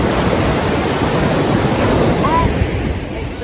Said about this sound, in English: So that's the beach.